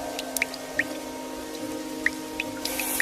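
Cartoon rain falls with scattered, bright water drips plinking at irregular intervals over a soft, steady patter, fairly quiet and close.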